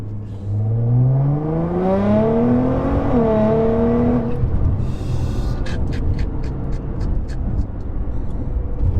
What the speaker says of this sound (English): we'll give it a little bit more power that we can hear that exhaust note